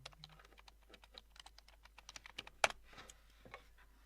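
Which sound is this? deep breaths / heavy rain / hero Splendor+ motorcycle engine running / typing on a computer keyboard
typing on a computer keyboard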